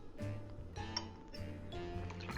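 Liquor poured over ice cubes in a glass, with faint clinks of ice and glass and a light trickle of liquid, quiet and close, no talking.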